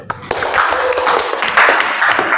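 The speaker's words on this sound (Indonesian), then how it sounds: "Oke, beri tepuk tangan dulu." A class audience claps together in a classroom, a brief burst of hand claps that starts abruptly and carries on fairly loud and close, with some voices mixed in.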